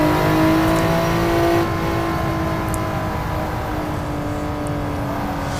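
A Honda NSX at Suzuka drones under throttle, its engine tone rising smoothly after a brief lift, loud and close throughout with a steady, building whine.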